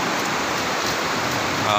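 Steady rain falls in the Ushu forest of Swat Valley, a dense even hiss of drops that stays constant and fairly loud throughout.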